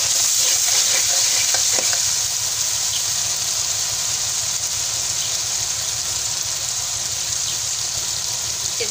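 Potatoes sauté in a pan for hotel-style methi aloo with a loud, constant broadband sizzle and a low rumbling undertone, louder for the first two seconds and then even throughout, with no talking.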